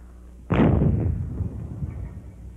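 A single sharp, loud grenade explosion bursts out, followed by a rumbling decay lasting about two seconds.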